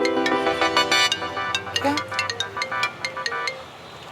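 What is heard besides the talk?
phone ringtone ringing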